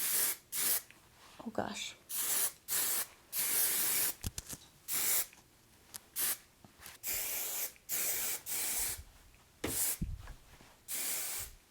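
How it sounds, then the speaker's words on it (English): Moroccanoil Luminous Hairspray Strong Finish sprays onto hair in repeated short hissing bursts, close and fairly loud, separated by pauses with someone talking between them. "This is the Moroccan Oil Luminous Hairspray, the Strong Finish"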